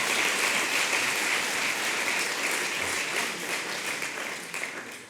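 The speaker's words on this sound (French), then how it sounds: "Allez, on peut applaudir, hein." A crowd applauds at a Sciences Po Paris graduation ceremony, dense and sustained clapping that gradually fades toward the end.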